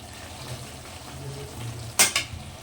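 A lentil dish of masoor dal with chalta being stirred with ghee in a pan, a soft steady sizzle ending in two sharp clinks of a utensil against the pan.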